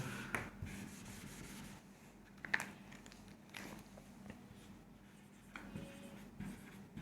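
Pen strokes writing the word notice in upper case on paper, soft scratching and tapping in short bursts, faint and close with a low room hum beneath.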